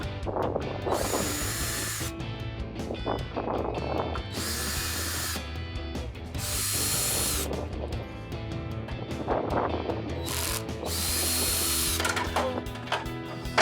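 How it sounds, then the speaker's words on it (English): A power driver spins four T15 Torx screws out of the third brake light on a Jeep Wrangler JK, in loud whirring bursts with short pauses between them, outdoors with some wind noise. "the next thing we have to do is take these 4 Torx bits out. They're a T15."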